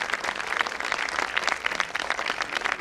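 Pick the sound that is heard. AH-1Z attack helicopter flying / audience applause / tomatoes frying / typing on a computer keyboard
audience applause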